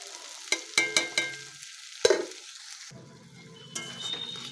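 Spices sautéing in a pan for a spring onion, egg and potato dish: a few sharp utensil clinks and scrapes against the pan, then a softer sizzle, fairly quiet, no talk.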